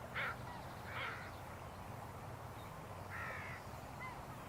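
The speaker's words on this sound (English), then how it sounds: "Crow." A crow caws at an estuary, three harsh calls spaced about a second or two apart, faint and distant over a steady wash of outdoor background noise.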